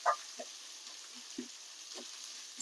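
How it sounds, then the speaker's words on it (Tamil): Onions fry in hot oil with fennel seeds, a soft steady sizzle close by under a few light stirring clicks and taps, with no talk. "வெங்காயம் நல்லா வணங்கணும்."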